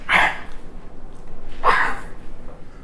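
Hungry dog whining for food indoors, two drawn-out nasal whines or yips about a second and a half apart, close and fairly loud against low room noise.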